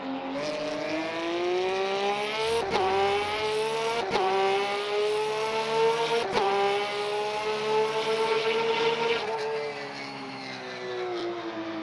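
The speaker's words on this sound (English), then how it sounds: "it does sound like a Porsche, at least" A Porsche race car engine in the racing game Le Mans Ultimate drones loudly and steadily, pitch climbing gradually through the gears with a few sharp shift cuts, then easing off near the end.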